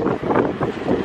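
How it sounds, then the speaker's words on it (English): Wind gusts buffet an outdoor microphone beside a truck at a stop while leaving Delaware, giving a loud, rumbling roar that swells and dips in three or four pulses over about a second, with no voice. "It's windy. I don't know if you can hear me,"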